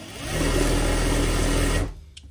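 A sewing machine stitches a cut clutch purse, running as a steady loud whir for nearly two seconds before stopping abruptly into near quiet.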